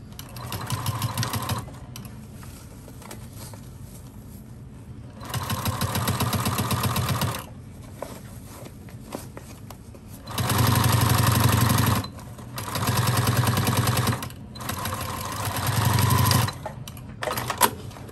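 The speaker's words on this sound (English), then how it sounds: "we're going to continue sewing here, sewing that shut." A sewing machine stitching a fabric bag shut runs in several bursts of rapid, even mechanical clatter, each lasting a second or two, with quieter pauses between them and no talking.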